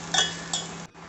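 Spices and salt are stirred in a pan, producing two bright metallic clinks of a utensil striking the pan in quick succession, close by and alone.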